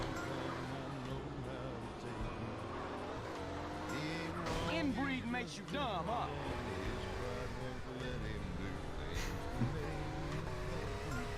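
A car in the video game Grand Theft Auto: San Andreas spins out and crashes into a guardrail, with engine revving and tire squeal over constant race noise. People talk throughout.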